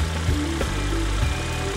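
A car engine drops back to a steady idle during a rotation check with an automotive multimeter, a continuous low rumble with harmonic tones and a couple of brief surges, close and alone.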